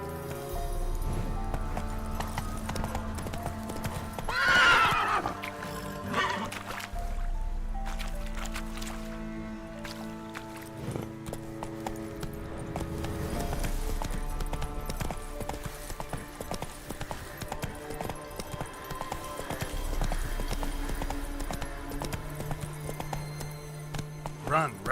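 Roach the horse gallops in The Witcher 3, steady clip-clop hoofbeats running under a swelling orchestral score, with a brief louder burst early on and a voice speaking over the game.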